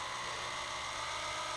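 A power drill drives a Lucy Clay CzeXtruder polymer clay extruder, giving a steady, loud motor whine with a constant high buzz and low hum throughout, no speech.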